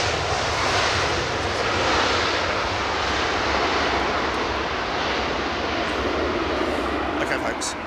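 An Airbus A340-600 cargo jet registered G-ECLM, operated by European Cargo, arrives at London Heathrow, its engines producing a loud, steady, broad roar that fills the whole stretch, with a voice talking over it.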